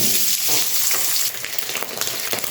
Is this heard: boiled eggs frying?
yes